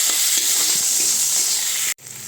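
Onions, tomato and turmeric frying in a hot pan for aloo masala, a loud steady sizzle and hiss that runs without a break and then cuts off abruptly near the end before fainter crackling resumes.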